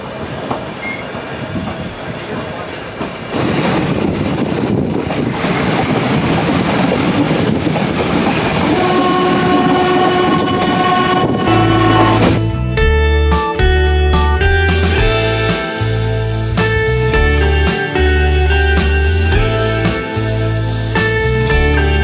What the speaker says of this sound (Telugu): మన ట్రైన్ స్టార్ట్ అయిపోయింది.